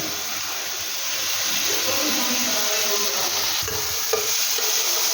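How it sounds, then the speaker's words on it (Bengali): Steady sizzling in a hot pan as chicken hot and sour soup ingredients are scraped and stirred, continuous and fairly loud throughout, with no voices. "আমি হালকা হাতে একটু নাড়াচাড়া করে নেব।"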